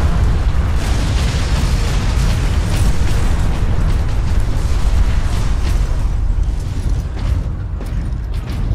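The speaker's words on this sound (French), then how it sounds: "Cool man, don't look at explosion." Explosions in the video game Space Marine: a dense, loud, sustained roar of blasts and crackling debris that rolls on without pause, then eases slightly toward the end.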